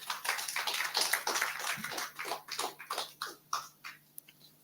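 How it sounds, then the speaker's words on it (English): An audience claps at a church program, a moderately near patter of hand claps that thins out toward the end. "Let's clap for them now."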